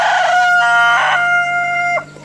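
A pet rooster crows loudly and close by, one long drawn-out call with several rising and falling segments, alone with no voices.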